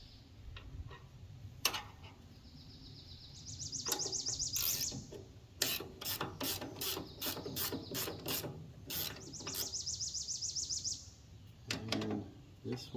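A ratchet wrench backing off tight bolts on a wood chipper, its clicking heard in several bursts of rapid ticks separated by short pauses. The sound is close and fairly loud, and nobody speaks.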